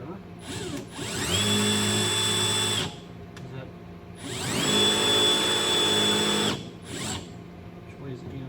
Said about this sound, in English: we're going to put a drill hole right there